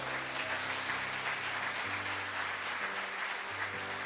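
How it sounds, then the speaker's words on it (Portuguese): Steady applause from a church congregation fills the space, moderately distant and continuous, with a low sustained organ or keyboard chord underneath. "Aplauda Ele por isso."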